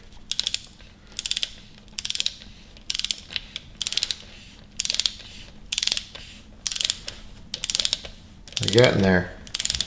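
A torque wrench ratchets in short repeated bursts while bolts are tightened to 108 inch-pounds on a 5.7L Hemi engine being assembled, with a brief spoken remark near the end.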